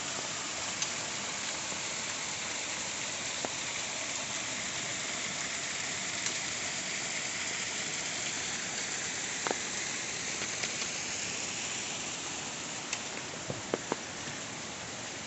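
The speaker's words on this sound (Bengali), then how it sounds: "ছোট্ট একটি ঝর্ণা," A small waterfall on a quiet green forest trail between Yuksom and Sachen pours in a soft, steady, continuous rush, faint and even, with a few tiny splashes and clicks.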